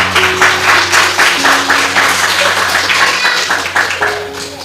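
Church congregation applause for Jesus, a close, loud burst of clapping from many worshippers that pulses in rough waves and tapers slightly toward the end, over a low sustained hum.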